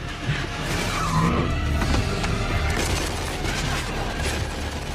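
Race cars roar and skid through a film's death race, engines snarling close and loud with tire squeals over a continuous dense rumble of traffic and mechanical clatter.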